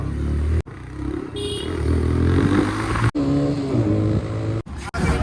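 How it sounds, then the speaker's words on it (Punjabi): A new motorcycle's engine runs steadily close by, a loud continuous drone with shifting pitch as it revs, broken by a few abrupt cut-outs and rattles. "ਨਵਾਂ ਲਾਇਆ ਮੋਟਰਸਾਈਕਲ ਵੀਰ ਨੇ ਲਿਆਂਦਾ"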